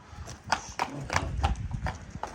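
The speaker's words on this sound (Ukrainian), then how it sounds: "ще одного представника першеронської породи. Це робоча кобила" Hooves of a Percheron work mare clip-clop in a steady, fairly close rhythm of about seven distinct strikes, with low rumbling background and no talk.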